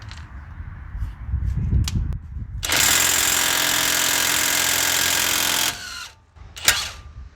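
An impact wrench hammers at the 32mm axle nut on a Ford Flex in one loud, sustained rattling burst of about three seconds, framed by quieter clanks and knocks of tools before and after.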